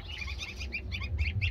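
Several baby chicks cheep in quick high bursts, close and fairly loud, over a low rumbling background with no talking.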